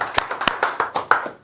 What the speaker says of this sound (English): That also deserves a clap,